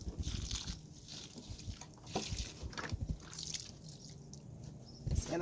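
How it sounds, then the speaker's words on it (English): Warm water is poured into the container of a ruby red grapefruit tree, making close, steady sloshing and dripping with liquid splashes for several seconds. "I put warm water in here."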